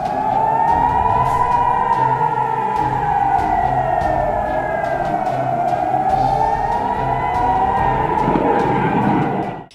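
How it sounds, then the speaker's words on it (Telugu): A loud warning siren sounds in a border village near Jammu during an alert, a steady wailing tone that slowly rises and falls over about ten seconds, with faint rumble underneath. "సరిహద్దు గ్రామాల ప్రజలను సైరన్లతో భారత సైన్యం అప్రమత్తం చేసింది"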